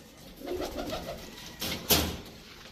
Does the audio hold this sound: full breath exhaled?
no